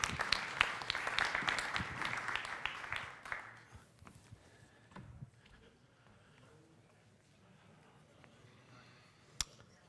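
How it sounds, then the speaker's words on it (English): Conference audience applauding a speaker at a blockchain event, a burst of clapping that fades away after a few seconds into a quiet room with faint rustling. "So please give him a round of applause."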